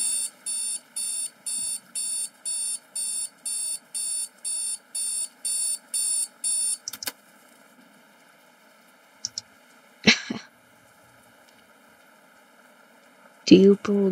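A video game alarm clock beeps in fast regular bursts, then stops abruptly. Faint hum and a few scattered clicks and noises follow in near silence.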